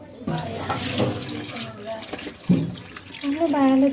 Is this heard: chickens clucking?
no